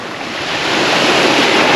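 Night surf on the Holderness coast at Hornsea washes right up against a sea wall, a loud, rising rush of breaking water mixed with wind buffeting the microphone, with no voices.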